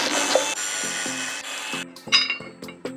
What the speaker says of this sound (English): Now we'll remove these four screws.